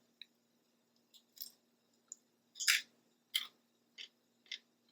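Crunchy, juicy green food being bitten and chewed up close, a series of sharp crisp crunches spaced irregularly in an otherwise quiet room.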